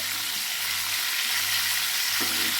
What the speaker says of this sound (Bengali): ফ্রাই হয়ে যাচ্ছে। আমি সব মাছগুলো এবার আস্তে আস্তে তুলে নেব।